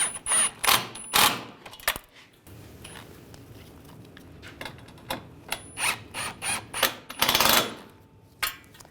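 Ratchet wrench snugging down the bolts on a 2009-2017 Volkswagen Tiguan bumper impact absorber, rapid close clicking bursts in several separate runs with short pauses between them, no talking.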